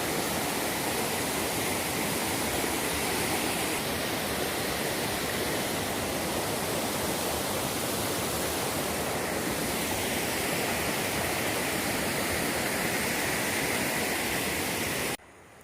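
Loud, steady roar of rushing water, continuous and close, filling the whole stretch before cutting off abruptly at the end.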